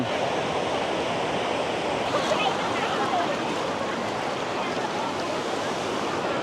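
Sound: Tham Phra waterfall in Bueng Kan

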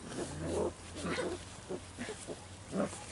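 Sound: puppies growling while playing

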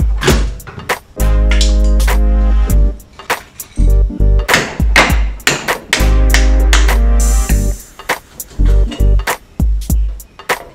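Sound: hammering a new ball joint into a car suspension arm

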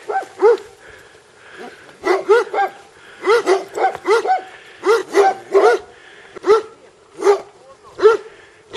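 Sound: dogs barking

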